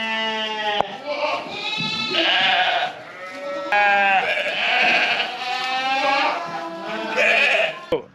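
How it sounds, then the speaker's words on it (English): Babydoll sheep on a farm bleating repeatedly, several loud, close, wavering cries in quick succession, overlapping one another across the whole stretch. "So what are you doing with the baby doll sheep then?"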